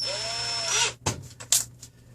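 A power drill whines steadily at high speed drilling an MDF bed for a RepRap Prusa Mendel 3D printer, then stops, followed by a few short knocks and scrapes.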